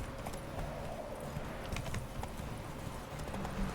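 A horse gallops in The Witcher 3 with steady, rhythmic clip-clop hoofbeats at moderate volume over faint ambient game background, without talk.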